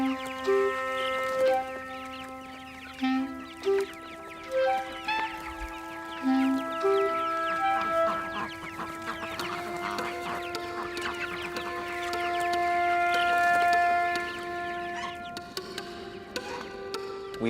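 Pasture-raised poultry on a farm cluck and call steadily for the whole stretch, with a rooster crowing now and then, many birds overlapping close by and no talking.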